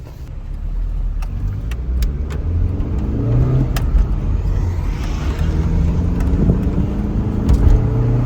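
A stock Nissan 240SX S13 cruising with the windows down, its engine a steady low hum from inside the car with road noise, a slight rise in revs and small clicks and knocks throughout.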